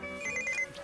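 Telephone ringing in an apartment, a brief electronic ring heard faintly at a distance, with no voices over it.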